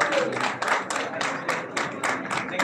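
An audience at a press meet breaks into sustained applause, a dense, loud wash of many hands clapping close by with a rippling, uneven rhythm.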